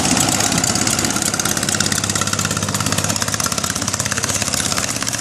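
A loud, steady long-tail boat engine drones throughout on the Inle river in Myanmar, with a constant low rumble and buzzing high-frequency texture, no voices.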